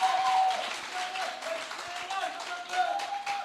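Church audience clapping and cheering after a French-speaking preacher urges acclaim, a steady wash of applause from a crowd with a voice and a sustained tone mixed in.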